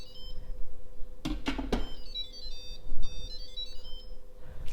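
Instant Pot Duo 5.7 litre 7-in-1 electric pressure cooker playing a short electronic chime as its lid is set in place, a brief tonal melody of a few notes after some clunks, heard close and alone.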